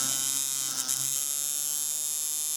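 An electric tattoo machine runs continuously while being tuned, a steady close buzzing hum with a slight wobble early on.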